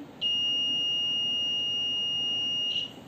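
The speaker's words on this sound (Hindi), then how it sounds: "देखा लाइट जली और बजर भी जला ना" An electric buzzer on an electro puzzle board gives one steady, shrill high-pitched beep lasting nearly three seconds, loud and close over a faint background hiss.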